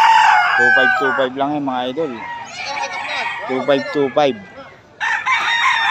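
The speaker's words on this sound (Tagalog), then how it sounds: "Napakarami pang manok." Chickens and roosters at a busy poultry market crow and cluck loudly in repeated bursts, with someone talking over the birds.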